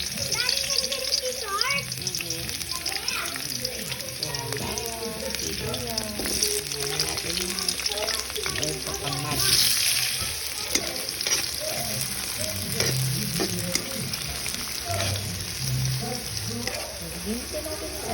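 Garlic and potatoes sautéing in a pan, a loud continuous sizzle with scraping stir sounds, while someone talks over it throughout.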